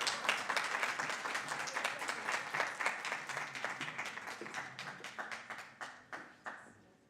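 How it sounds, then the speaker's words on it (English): An audience gives a warm round of applause for the IOM Chief of Mission at an International Migrants Day event, a dense burst of clapping that thins into scattered, slower claps before fading out. "Let's give her a warm round of applause as she makes her way to join us on stage"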